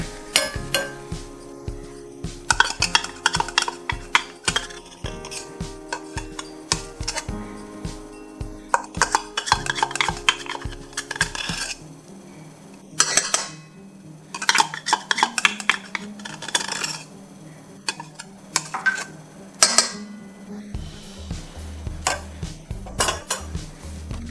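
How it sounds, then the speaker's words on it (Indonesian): A mixing bowl is scraped and cleaned out while making coconut steamed putu ayu cake, with repeated close clinks, taps and scraping of utensil against bowl in irregular bursts. "saya akan bersihkan mangkuknya"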